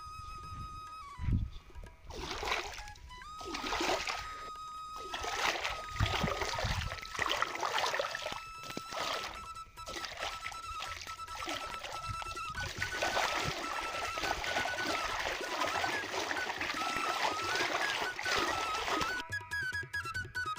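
Cartoon water splashing in a pond, with trickling and splattering bursts under a background music bed, moderately loud and continuous.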